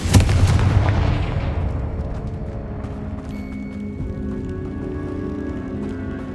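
Confringo blasting-spell explosions in Hogwarts Legacy hit with a sharp, loud crack and deep boom, then a long rumbling tail with scattered debris clatter that slowly dies away.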